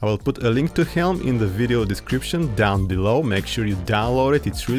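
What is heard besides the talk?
No distinct noise like a dog, phone or traffic.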